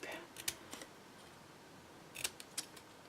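Scissors trim a V shape into a large flower petal, giving a few faint, crisp snips in two small clusters separated by a quiet gap.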